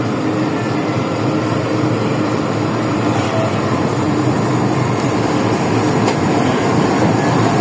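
The newly decorated Pak Business Express passenger train rolls past on its inaugural run, a loud, steady rumble of locomotive and rail noise with a broad roar that holds constant throughout, with no talk.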